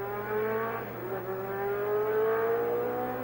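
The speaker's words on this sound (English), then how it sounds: "You may hear the sound of racing engines, but they're warming them up" Formula 1 racing engines warm up at the 1982 Detroit Grand Prix, a steady droning hum with a slowly rising pitch, heard at a moderate distance and with no voices.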